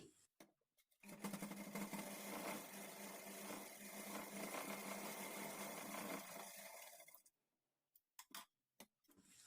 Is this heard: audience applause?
no